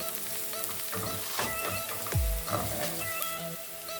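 Garlic sizzles in a pan of cooked onions for a pasta sauce with sausage balls: a steady close crackling hiss with scattered pops and a brief low thud partway through.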